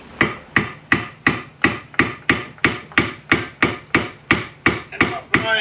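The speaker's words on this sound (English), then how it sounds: "You gotta be gentle though, because this is aluminum that I'm tapping on." Rhythmic hammer taps on aluminum in a garage, about fourteen even, fairly loud knocks at a steady pace of roughly two and a half per second, each with a short ringing decay, alone without talk.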